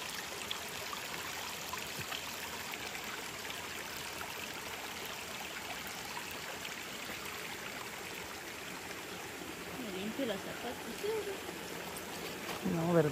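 River water rushes strongly past in a steady broadband wash, close and constant, with a faint voice rising under the flow near the end.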